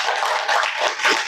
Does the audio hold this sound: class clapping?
yes